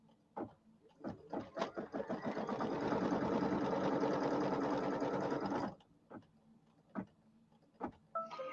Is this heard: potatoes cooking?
no